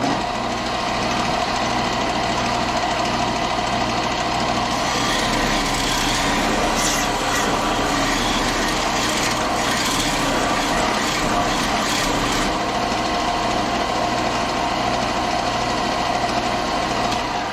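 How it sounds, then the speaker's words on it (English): A power sander runs steadily across a wooden item during a light sanding pass in a small repair, giving a continuous loud whirring buzz that holds for the whole stretch with no talk. "I'm going to do a light sand on this."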